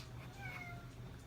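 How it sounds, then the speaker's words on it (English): A house cat gives a single clear meow of moderate loudness in a quiet indoor room with a faint background hum, and no one talks over it. "What you doing, kitty?"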